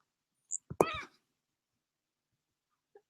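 A house cat meows once, close and moderately loud, a short harmonic cry standing alone in an otherwise quiet room.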